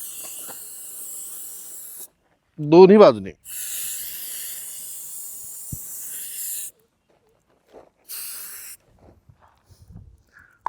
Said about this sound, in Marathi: हा स्प्रे तुम्हाला ह्या पिशवीवर असा मारायचा आहे